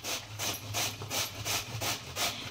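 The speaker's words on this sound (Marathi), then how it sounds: "हे बाई आता मी ना भोपळा किसून घेते." Pumpkin is rubbed back and forth over a grater in even, rhythmic strokes, roughly two per second, with a close, rasping sound and no talk.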